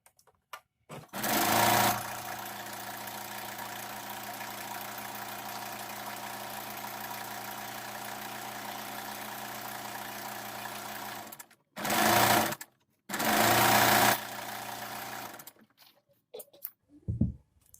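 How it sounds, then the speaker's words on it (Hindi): An electric sewing machine stitches the side seam of a pair of pants, one long steady whirring run followed by two short bursts, close and clear with no talk. "तो चलिए इसमें सिलाई लगा लेते हैं और इस तरह से पैंट की साइड भी सिलाई लगा लेंगे।"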